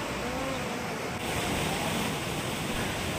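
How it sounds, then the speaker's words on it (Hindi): Steady rushing river water flows beside the Chamunda Devi temple in Kangra, a continuous broadband wash of moderate loudness with no talk heard. "मंदिर के साथ बहती नदी का पानी कल कल शोर करता हुआ बह रहा है"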